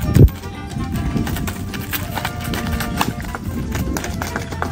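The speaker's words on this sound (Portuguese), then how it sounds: "esse cavalo é bom mesmo, Mauro?" A horse's hooves clip-clop in a quick, irregular patter close by, opening with a sharp thump and continuing as a busy run of taps beneath a steady background.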